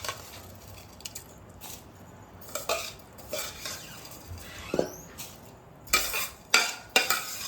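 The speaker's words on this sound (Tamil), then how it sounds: "நம்ம அரிசியை போட்டுக்கலாம்" Soaked, rinsed rice tipped into a pot of boiling water for matar pulao and stirred with a metal spoon, giving scattered clinks and scrapes against the pot over a soft bubbling bed, with louder clatters near the end.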